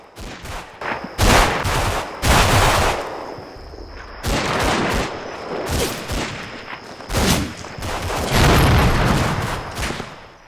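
Repeated bursts of infantry small-arms fire, including a BAR automatic rifle, crackle through a World War II Italian-front battle in Combat Mission: Fortress Italy, loud volleys and rattling fusillades recurring every second or two with no talk.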